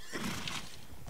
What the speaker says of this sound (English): Didn't think they'd have horses.